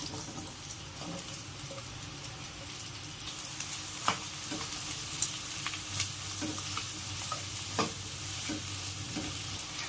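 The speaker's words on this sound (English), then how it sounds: "Oil వేడయ్యాక onions వేసుకోవాలి." Sliced onions fry in hot oil for a home-style fish curry, giving a quiet, steady sizzle, with a utensil stirring and scraping the pan in occasional light clinks and taps.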